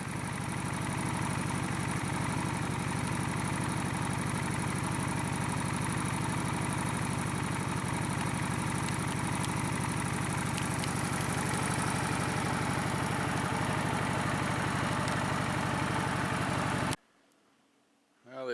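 Steady engine drone of a motorcycle being ridden through the Mojave Desert, a constant close rumble with wind running unbroken for about seventeen seconds before cutting off abruptly.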